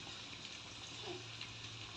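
A quiet, steady sizzle and crackle of hand-pounded lentil vada frying in hot oil, a low continuous hiss with faint pops.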